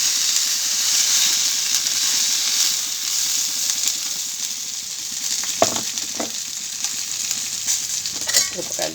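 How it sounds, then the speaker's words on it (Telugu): Chillies frying in oil in a pan give a steady bright sizzle throughout, with a few utensil scrapes and clinks near the end and a voice talking quietly over it. "కొంతమంది మిరపకాయలు వేగినాయి కదా"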